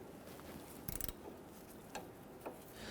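A ratchet wrench on a Dodge Charger sway bar link gives a few quick metallic clicking bursts, faint and close, with brief pauses between them.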